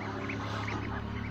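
Weak, thin ducks kept in a pen with dirty water and matted straw in December give soft, repeated quacking calls close by, running continuously over a steady low background hum.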